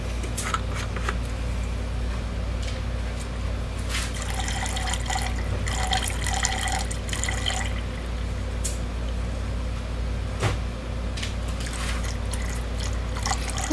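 Alcohol is poured from a bottle for a homemade body spray, a faint, steady trickle with small drips and clinks of the container against a constant low background hum.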